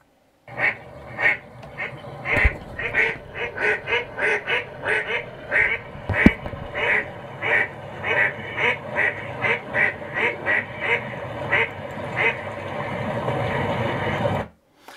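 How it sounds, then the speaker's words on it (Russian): A long run of duck quacks, loud and close, coming in quick irregular bursts one after another with little pause between them. "Это утка и она будет крякать."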